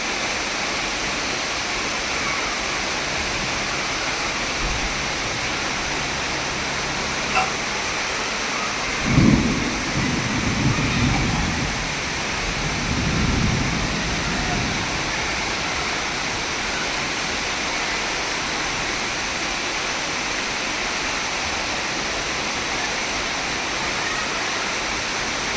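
Steady heavy rain hisses throughout, with a rolling rumble of thunder swelling in the middle and a second fainter roll just after; no voices are heard.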